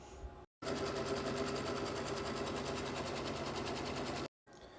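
Embroidery machine stitching foam stabilizer in the hoop, a steady, fast, close mechanical whir with rapid needle pulsing that starts abruptly after a brief silence and cuts off sharply near the end.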